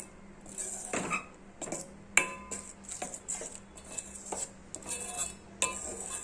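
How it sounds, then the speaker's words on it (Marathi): Utensil stirring a chocolate and cocoa powder mixture in a pan, sounding as irregular clinks and scrapes of metal against the pan, repeated through the clip at close range with no talking. "बघा छान मिक्स होत आहे।"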